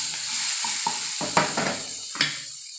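Chopped gooseberry frying in the hot tempering for gooseberry-garlic chitranna, a steady close sizzle with a few quick stirring scrapes over the pan.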